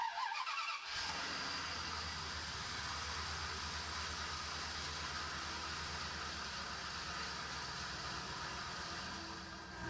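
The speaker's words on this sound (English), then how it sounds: "Let's go ahead and start up the vehicle." A vehicle engine cranks briefly and catches, then settles into a steady, even idle hum with a faint high whine, close and continuous for several seconds with no talking.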